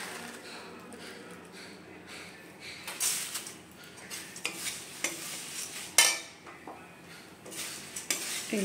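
Flattened rice (chira) being dry-fried in small batches in a pan, with quiet scraping and stirring, intermittent metallic utensil clicks against the pan and a few sharper knocks.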